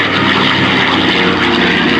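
A B-25 Mitchell bomber, "Panchito," flies past at the Patuxent River air expo with its bomb bay doors open. Its piston engines and propellers give a loud, steady, close roar.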